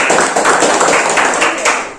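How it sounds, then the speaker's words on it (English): An audience claps steadily for a speaker called to the stage, a dense, continuous patter of many hands that holds loud and close for about two seconds before tailing off. "Clap a big hand for the Ayush Kumar."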